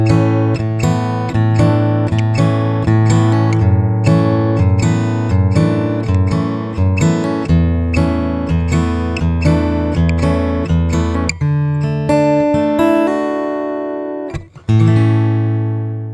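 The piano intro of a song arranged for guitar, ringing chords with a descending bass line, played loud and close before a final strum that rings out.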